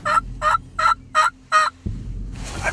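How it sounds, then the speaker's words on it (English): A string of five loud, rattling wild turkey gobbles comes in quick, evenly spaced succession at close range, followed by a brief rustling, breathy noise. "They're circling gobbling."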